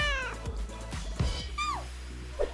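A cat meows several times, short falling cries scattered over soft background clatter and low hum, fairly close.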